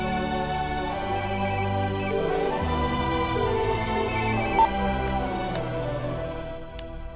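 A telephone rings with a melodic ringtone in a Hindi-dubbed South Indian action film, loud and continuous, with no talk over it.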